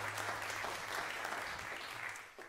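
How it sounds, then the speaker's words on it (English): Audience applause at a live jazz quartet concert, a steady wash of clapping for a couple of seconds that is quite faint and distant, easing off toward the end. "you can clap for that."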